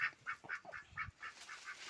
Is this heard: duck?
yes